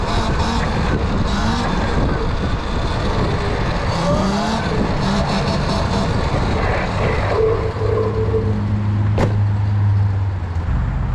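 An electric dirt bike in eco mode accelerates into a wheelie, giving a steady, loud motor whine with wind and rumble that holds for the whole stretch, the pitch rising and swelling near the end.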